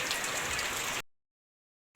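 Steady rain hisses down, close and even, then cuts off abruptly halfway through.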